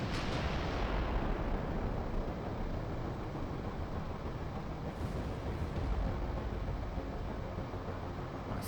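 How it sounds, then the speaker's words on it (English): Naval guns fire a volley in the game Carrier Command 2: dense, continuous booming rumble of gunfire and explosions, loud and unbroken throughout, with no talk. "one volley might be able to get multiple"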